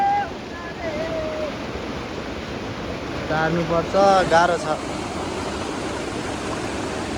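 A large river rushes steadily as a buffalo is led across it. The water makes a continuous broadband roar throughout, with people talking loudly over it midway.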